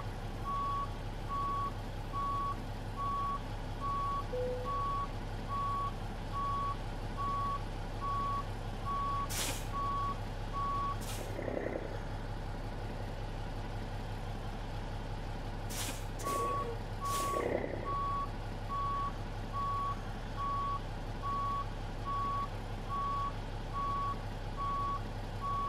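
A truck in American Truck Simulator sounds a steady, evenly spaced reversing beep while backing up, over a constant low engine hum, with a few brief air-brake hisses in the middle and no talking.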